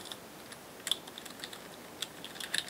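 Computer keyboard typing Visual Basic code, light scattered keystrokes in short irregular clusters, faint and close with no talk.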